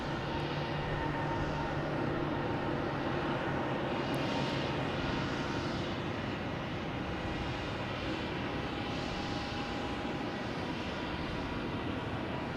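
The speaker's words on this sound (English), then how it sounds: "I'm still waiting for that British Airways to take off" A British Airways airliner at Boston Logan producing a steady, broadband roar that stays constant and fairly distant throughout.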